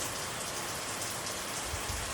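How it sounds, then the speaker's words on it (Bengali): Steady rain falls outside at a rural home in Bangladesh, a dense even hiss of drops on surfaces with no voices. "এখনও বৃষ্টি পড়ছে"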